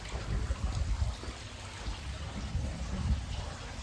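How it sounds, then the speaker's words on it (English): Soft, steady splashing of a fountain, a faint continuous patter and trickle of falling water with no voices. "There's a fountain right there."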